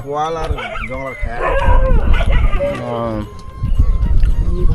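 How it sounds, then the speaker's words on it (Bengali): Several dogs bark and yip close by, mixed with people talking over them. "কুত্তা আসছে অনেকগুলো"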